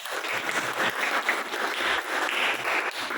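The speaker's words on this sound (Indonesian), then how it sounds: "Beri tepuk tangan untuk kelompok 2." Classroom applause for a student presentation group in a vocational agribusiness class, a steady patter of many hands clapping together at moderate volume for a few seconds, with no one speaking over it.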